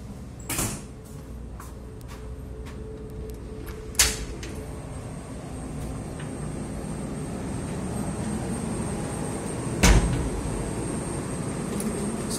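A door opening and closing aboard a ship, with sharp clunks at intervals over a constant low engine drone.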